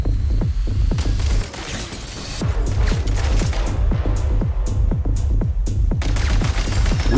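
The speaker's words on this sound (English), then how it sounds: "We are under heavy fire." Heavy gunfire fills a video game battle: dense, loud bursts of shots and booms repeat steadily with no pause, a chaotic fusillade of overlapping explosions and rattling fire.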